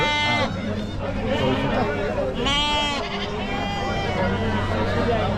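Sheep and goats bleat at a large livestock market in Chakan, Maharashtra, with several loud, wavering calls rising over a constant hubbub of crowd chatter and nearby talking.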